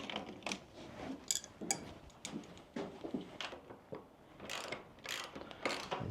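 Socket wrench ratchet on a 10mm bolt, loosening the tank bracket bolts on a Royal Enfield Himalayan 450 motorcycle: bursts of fast clicking that repeat through the clip, fairly close and moderately loud, with no talking.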